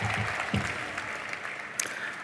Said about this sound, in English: Can we give God an applause?